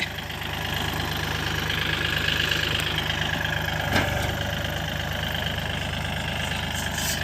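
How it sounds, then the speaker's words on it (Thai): A heavy 36-horsepower tractor engine idles nearby in a farm field with a steady, knocking chug, and a single sharp clunk partway through. "เป็นรถไถใหญ่มาคุมเลยวันนี้"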